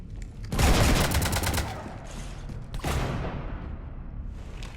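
A burst of rapid gunfire in the sci-fi shooter game Mass Effect 3, a loud automatic volley followed by a second shorter blast, fairly close and with no talking over it.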